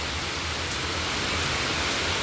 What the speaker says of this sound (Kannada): ಮಳೆ ಬರುತ್ತೆ ನೋಡಿ